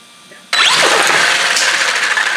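An RC car's electric motor starts up after an ESC replacement, jumping abruptly into a loud, close, steady whine that rises in pitch and holds on the throttle.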